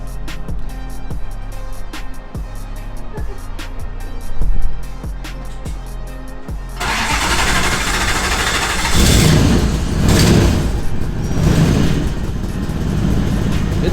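A Lexus 1UZ V8 fitted in a Nissan S14 cranks with a rapid rhythmic whirr, catches and fires up, then settles into a loud, rumbling idle with a few blips of throttle, close by.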